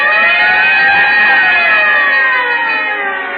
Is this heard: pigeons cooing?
no